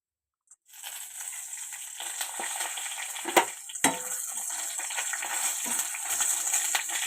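After a brief silence, dried red chillies and gongura leaves hit hot oil and crackle in a steady sizzle, with a couple of sharp taps and scrapes from stirring, close and moderately quiet.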